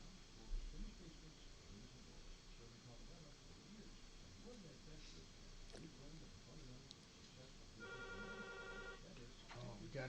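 A studio telephone rings for an incoming caller on a radio call-in show, heard as a short electronic trill near the end, following a stretch of faint voices and low background sound.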